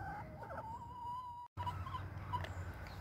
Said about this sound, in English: I'm going to show to you our chickens.